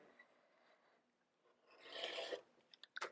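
Fabric quilt units being sliced, a faint rasping drag building to a louder scraping stretch, then a few short sharp cuts at the end, close and alone with no talk.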